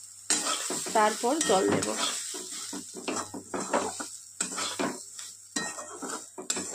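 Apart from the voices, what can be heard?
semolina being stirred and roasted in a pan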